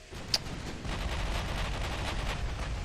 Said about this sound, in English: when I switched to AP, the ship suddenly let loose with a monstrous blast